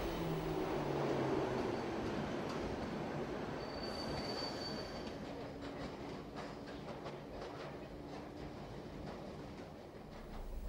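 Underground tube train wheels squeal sharply on the rails over a steady rumbling roar of a moving carriage, with faint rhythmic clacking toward the end.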